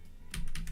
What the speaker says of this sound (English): my keyboard sometimes has to be it has to be like punched really hard for it to show up